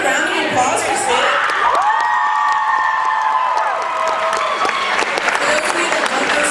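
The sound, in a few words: round of applause for Sid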